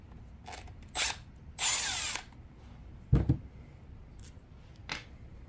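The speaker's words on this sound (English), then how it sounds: "we're going to take out these retaining screws here" Power drill taking out the retaining screws on a 25cc two-cycle weed eater carburetor, heard as several short, close whirring bursts with a longer run in the middle and clicks between them.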